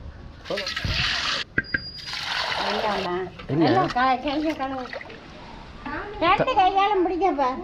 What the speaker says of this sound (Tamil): தண்ணி ஊத்தியாச்சு